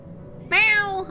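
Single short cat meow in the Final Fantasy XIV video game, clear and close, rising sharply out of quiet background ambience and fading after about half a second.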